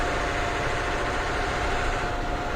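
A rollback tow truck's engine runs steadily on the road, a constant low rumble with a broadband drone and no voices over it.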